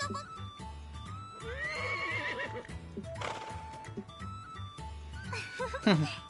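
A horse in the video game Atelier Lulua, pulling a horse-drawn atelier, gives two close, loud whinnies with rising and falling pitch, over clip-clop hooves and game sounds.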